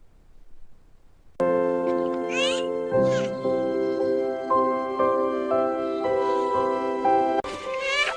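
A few rising, cat-like meows from a cartoon cat sound over sustained musical tones that hold steady throughout.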